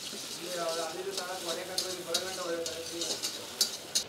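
Ginger-garlic and green chili paste fries in a pan for home-style egg fried rice, a soft, quiet sizzle with a few sharp stirring clinks under a person talking.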